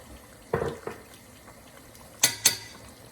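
Lamb being stirred with spices in a pot, a few clinking scrapes of a utensil against the metal, two separate pairs of knocks, faint and close in a quiet kitchen.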